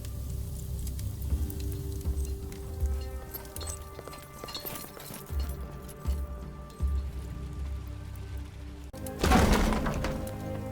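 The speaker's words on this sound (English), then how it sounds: "why are you smashing the workbench?" A wooden workbench is smashed in the video game Expeditions: Rome, with irregular thumps and knocks over a low game ambience and a loud splintering crash near the end.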